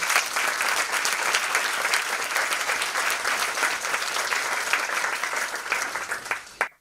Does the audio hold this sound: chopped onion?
no